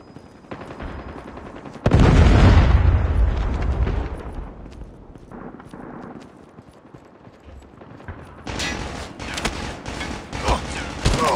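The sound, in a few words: Predator missile strike explosion in the video game Call of Duty Mobile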